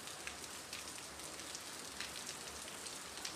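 Steady rain falls in a broadband hiss with scattered drop patter on surfaces, continuous and fairly loud for the whole stretch, with no voices.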